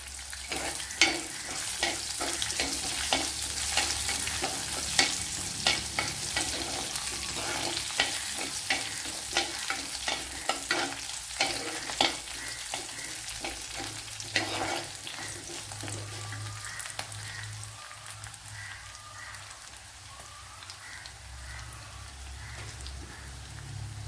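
Curry leaves crackle and fry in hot oil in a pan for a tapioca dish, a steady close sizzle with frequent sharp pops and stirring scrapes that ease slightly toward the end.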